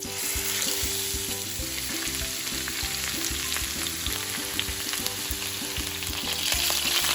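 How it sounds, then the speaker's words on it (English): Pork searing in olive oil in a preheated pan, with a steady loud sizzle and frying crackle running throughout and no talking. "we're going to add some olive oil into our preheated pan, and we're going to sear the pork"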